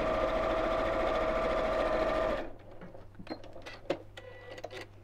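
Sewing machine running steadily while stitching a quarter-inch seam in fleece fabric for a basket, a loud continuous whir that stops abruptly partway through, leaving quiet handling noises.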